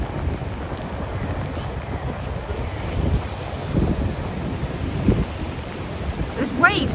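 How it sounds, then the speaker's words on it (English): Storm wind and choppy waves on a normally calm river near where it meets the sea during Storm Babet, with steady gusty roar, buffeting wind on the microphone and occasional louder surges of water. "There's waves on the river."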